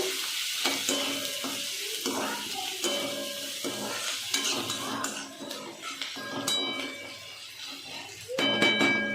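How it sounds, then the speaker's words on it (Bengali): Onions fry in a pan for paneer biryani, giving a steady close sizzle under a voice talking, with occasional clinks and scrapes of a utensil against the cookware. "এদিকে পেঁয়াজটা ভাজা হচ্ছে, পেঁয়াজটা গোল্ডেন ব্রাউন ভাজা হবে"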